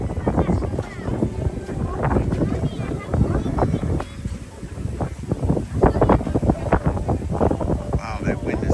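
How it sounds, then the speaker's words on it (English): Strong wind buffets the microphone at an outdoor flower festival at Epcot, a loud, continuous gusting rumble heard throughout the whole stretch. "Wow, that wind is picking up."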